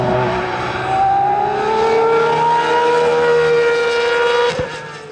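An Aston Martin Valkyrie AMR engine revs on a race circuit, a loud sustained rising tone held in one gear before it cuts off abruptly.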